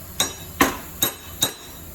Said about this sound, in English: You need a hammer